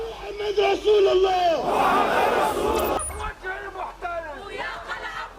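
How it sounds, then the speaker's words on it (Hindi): A huge protest crowd of about 100,000 people in London shouts slogans against Israel: loud, rhythmic massed chanting with voices rising and falling together, filling the space in dense waves. "यहाँ 1 लाख लोगों ने इजराइल के खिलाफ नारेबाजी की।"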